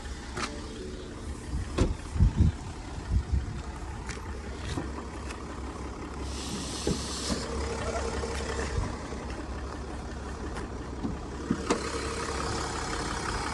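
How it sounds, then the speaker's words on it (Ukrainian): A 2016 BMW X5's engine idles with the hood open, giving a steady low hum with occasional faint clicks and small knocks from the engine bay and no speech. "Мотор працює рівно, чітко."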